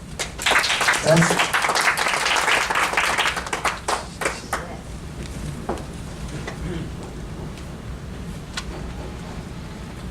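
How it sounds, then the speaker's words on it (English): Loud applause from a Rotary club meeting audience welcoming a guest speaker, dense clapping for about four seconds that then thins into scattered claps, with a brief spoken word and room talk following. "Please, with the loud applause to welcome Jeff's speech."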